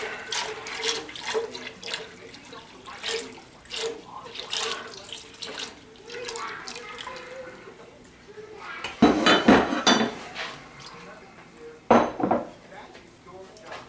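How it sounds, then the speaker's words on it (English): A whisk rattles and clinks against a metal pot while flour is worked into a roux for mac and cheese. The scraping and tapping is busy and irregular, with a few louder clanks. "nice and slowly, trying to incorporate all that flour so we don't get clumpity clumps"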